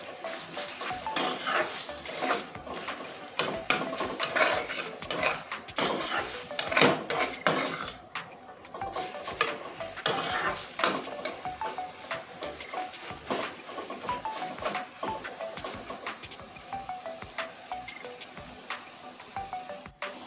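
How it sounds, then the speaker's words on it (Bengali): Taro leaves fry in a pan while being stirred, a spoon scraping and clacking against the metal in irregular bursts over a continuous close sizzle, with no voices. "একদম জল মরে গিয়েছে, একদম ভাজা ভাজা হয়ে গেছে কচু শাকটা"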